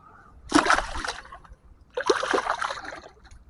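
A channel catfish is released back into the water at Kildonan Park in Winnipeg, making two close, short splashes and sloshes about a second and a half apart against a quiet background.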